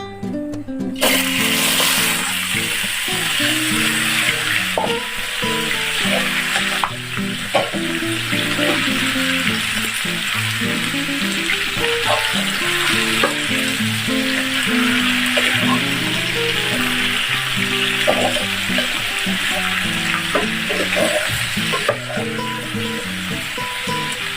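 Chinese-style pork spare ribs fry in caramelized sugar in a pan, giving a loud, continuous sizzle with occasional stirring scrapes throughout.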